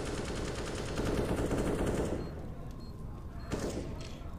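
Gunfire in Counter-Strike on the de_overpass map during an ESL Pro League match: a dense rapid burst of automatic shots for about two seconds, then a few sharp single reports, fairly close and loud.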